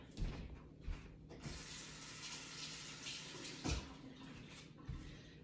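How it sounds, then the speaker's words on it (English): Tap water runs over a glass baking pan in a kitchen sink, a soft, uneven splashing stream broken by a few knocks and clunks of the pan being handled, quiet and close, with no voices. "Sometimes you got to run some water over it."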